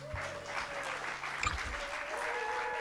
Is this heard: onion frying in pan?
no